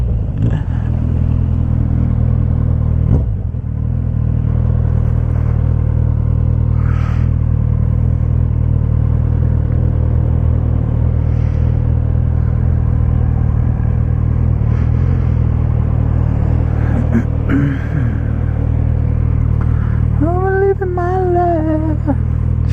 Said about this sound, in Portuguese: E meu sonho de criança era um dia estar em cima de uma moto que fizesse esse barulho.